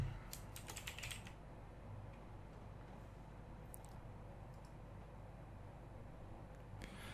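A computer keyboard clatters under quick bursts of typing as an address goes into an online form, with clustered key clicks, short pauses and a faint room hum.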